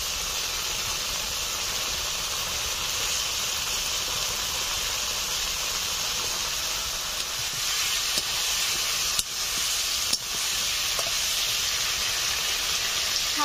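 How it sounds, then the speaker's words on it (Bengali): Fried potatoes sizzle in hot spiced oil with salt and turmeric, a steady dense hiss that runs unbroken and fairly loud, with a few faint clinks partway through. "ভেজে রাখা আলুগুলো দিয়ে দিচ্ছি।"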